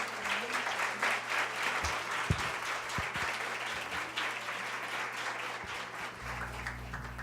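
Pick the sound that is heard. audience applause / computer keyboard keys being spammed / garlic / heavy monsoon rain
audience applause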